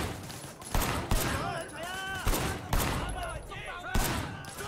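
Gunfire in the open-world action game Sleeping Dogs: several sharp shots at uneven intervals, some in quick bursts, fairly loud and close. Someone talks over them throughout.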